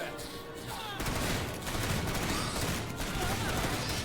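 Rapid, dense rifle fire from troopers in the strategy game Starship Troopers: Terran Command, a continuous loud fusillade of overlapping shots with brief dips, without speech.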